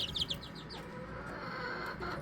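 Serama and pheasant-cross chicks, hatched at home in an incubator, chirp briefly at the start in a quick run of high peeps, then fade into a quiet room background.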